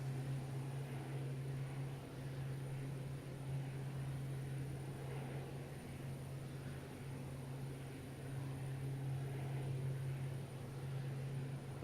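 Steady propeller airliner cabin drone during a climb toward 25,000 feet over the Bristol Channel, a strong low engine hum with constant broadband rush, unbroken and even throughout.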